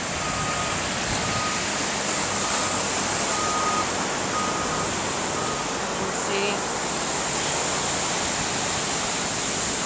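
Ocean surf washing onto a beach under nourishment work, a constant broad roar of waves filling the whole stretch without clear breaks, heard close and loud with no talk over it.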